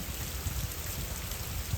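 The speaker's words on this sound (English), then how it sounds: "now that I see the rain dropping right there" Steady rain falls outdoors in a garden bed, a continuous soft patter that stays even throughout and nearly alone.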